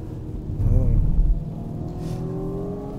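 A new stock four-wheel-drive BMW M135i pushed hard around a race circuit, its engine droning steadily and swelling briefly as it revs, with a driver's voice talking over it.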